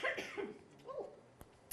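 A woman's cough: a few sharp, fairly loud bursts close up, followed by a couple of faint clicks, with no talk.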